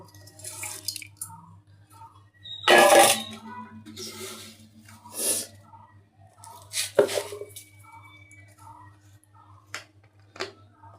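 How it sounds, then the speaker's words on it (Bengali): Khichuri ingredients being mixed by hand with oil make soft, wet squishing bursts at irregular intervals over quiet background, with faint repeated chirps throughout. "তা আমি এটা দিয়ে এখন মাখাবো তেল দিয়ে।"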